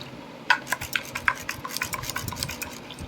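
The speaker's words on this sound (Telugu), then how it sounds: "ఇలా తిప్పడం వల్ల మిక్స్ అవుతాయి అన్నీ." Spoon stirring a bowl of fruit salad with apple, banana and grapes, a run of close clinks and scraping taps against the bowl with no voice.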